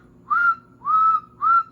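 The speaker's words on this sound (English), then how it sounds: "watch what happens when I whistle" A person whistles into the microphone of a homebuilt AM transmitter using 6A3 tubes driving 810s, three clean sustained notes in a steady rhythm, loud and close, alone without talk.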